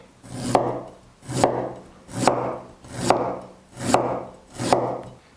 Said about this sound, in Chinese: 再来准备1块姜，去皮，切片。